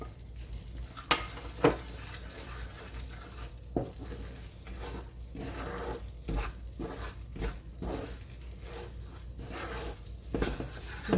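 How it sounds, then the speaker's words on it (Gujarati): Gram flour roasting in a pan for methi paak, stirred continuously with a spoon scraping the bottom, giving a steady soft sizzle and rhythmic scraping up close, no talk. "બ્રાઉન કલરનું થાય ત્યાં સુધી આપણે શેકવાનો છે"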